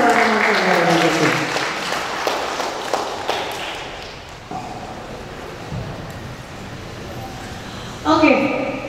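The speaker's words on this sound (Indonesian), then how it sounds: "berikan tepuk tangan sekali lagi untuk Mbak Devi" Applause rises from the audience at a photography talk session for a presenter, a busy clatter of clapping that fades over the first few seconds, then gives way to talking, shuffling and a chair moving.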